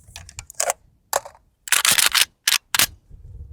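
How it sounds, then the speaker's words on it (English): A FAL rifle being unloaded and cleared: a run of sharp metallic clicks and clacks, mostly in bursts, as the action is worked. "I'm going to unload and clear my rifle to ensure there's no round chambered."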